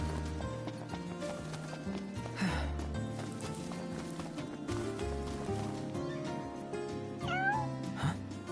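A cat meows twice in Final Fantasy XV, short rising cries over a steady bed of game music and ambient sound, the second meow more distinct near the end.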